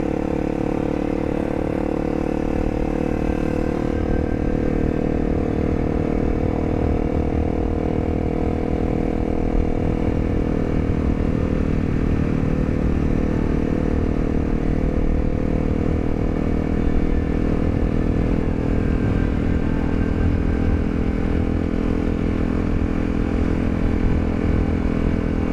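Honda CRF250L dirt bike climbing straight up a rural hill, its engine droning loud and steady throughout with wind rush, close to the rider and no talking.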